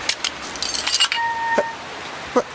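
Keys of a lorry jangle and clink in a few quick, close bursts at an abandoned building site, with a short rattle near the end and no talking.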